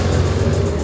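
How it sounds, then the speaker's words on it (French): A car arrives with its escort outside an embassy in Paris, its engine giving a steady close mid-range rumble with a low-frequency drone, heard briefly and alone without speech. "la voiture et son escorte sont en train d'arriver"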